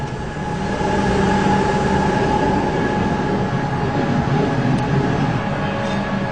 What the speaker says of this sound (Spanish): El tren más popular de Cataluña recorre de nuevo, desde hace tan solo unos meses, el macizo de Montserrat.